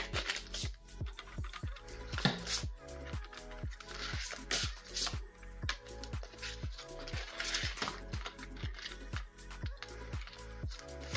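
Cards are shuffled repeatedly in a quick, steady rhythm of riffling snaps, close up, with no talking.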